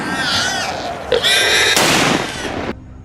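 Panicked squealing from a herd of wild boar, loud and close, with sharp bursts of rifle gunfire cracking over the squeals during a hunt.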